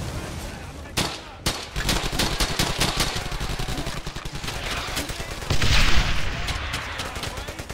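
Dense gunfire in the World War II shooter Brothers in Arms: Hell's Highway, rapid machine-gun bursts and single rifle cracks rattling close and loud, with a heavier blast near the end and voices in the mix.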